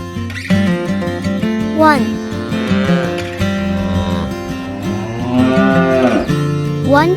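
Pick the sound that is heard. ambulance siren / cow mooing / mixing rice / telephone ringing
cow mooing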